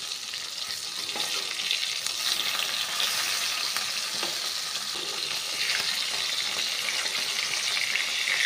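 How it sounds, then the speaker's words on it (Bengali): Small sarpunti fish fry in oil in a pan in a Bengali village kitchen, giving a steady, close hiss and sizzle that continues evenly throughout, with no talk. "এবার মাছের অন্য সাইডটাও ভালোভাবে ভেজে নেব"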